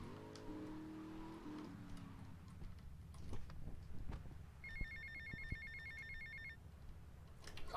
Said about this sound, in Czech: Zase telefon.